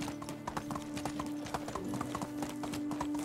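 Horse hooves clip-clop steadily while riding through a medieval village and swamp landscape in the game Medieval Dynasty, a quick regular rhythm of clear near hoofbeats running throughout over faint background ambience.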